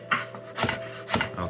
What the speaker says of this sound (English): put them to the side, and then our knife on the board and continue to cut across